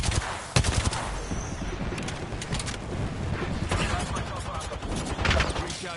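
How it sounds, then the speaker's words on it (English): A knuckle cluster weapon fires in a shooter video game, producing a dense, continuous rattle of rapid explosive shots that runs for several seconds with game noise layered around it. "Knuckle cluster's firing."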